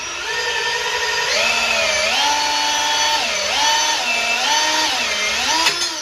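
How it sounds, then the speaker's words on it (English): A loud half-inch power drill whines steadily for several seconds, driving a knockout punch through metal, its pitch dipping and rising as it strains under load, with a faint click near the end. "Now I'm using your typical, 1/2-inch drill here"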